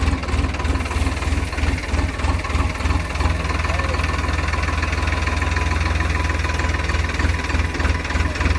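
A tractor fitted with a JCB-style front bucket attachment idles on a farm, its diesel engine throbbing in a steady low, pulsing rumble that continues loud and close throughout.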